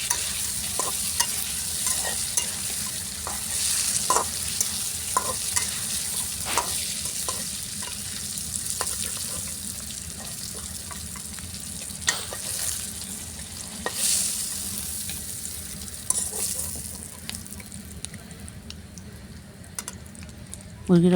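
Chicken fries in a wok, a continuous loud sizzle broken by frequent sharp scrapes and knocks of a spatula stirring the pieces, heard up close throughout.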